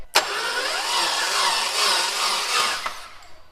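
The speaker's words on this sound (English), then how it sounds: "Let's turn this starter back on and see if I can get oil up at the top with the turbos" A starter cranks the newly installed engine of a Mitsubishi 3000GT VR4 without it firing, a whirring, wavering drone that begins abruptly, holds for about three seconds close by, then stops.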